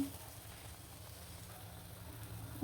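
Slices of brinjal dipped in gram-flour batter frying in hot oil, giving a soft, steady, even sizzle that is quiet and close.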